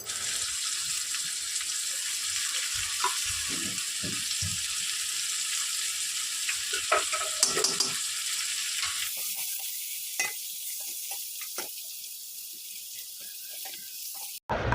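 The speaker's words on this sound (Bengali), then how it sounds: "একটু জিরে গুঁড়ো একটু ধনে গুঁড়ো আর হাফ চামচ আদা বাটা দিয়ে আমরা মশলাটাকে আর আন্দাজ মতো হলুদ দিয়ে আমরা মশলাটাকে একটু কষে নেবো ভালো করে" A spice paste of ground cumin, coriander, ginger paste and turmeric sizzles steadily in a pan for a Bengali rohu fish curry with eggplant and potato, with scraping stirs throughout and a hiss that eases off in the second half.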